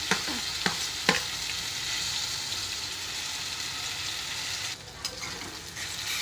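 Mango thokku with a turmeric, salt and spice mix being stirred in a pan, with a constant close frying sizzle and a few sharp spoon scrapes and knocks against the pan.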